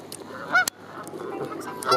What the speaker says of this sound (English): Water birds. Goosander,